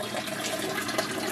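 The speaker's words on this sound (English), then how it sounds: "Then the water drains via an overflow down to" Aquaponics system water draining through an overflow down into a holding tank, a continuous splashing, gurgling trickle at close range with no voices over it.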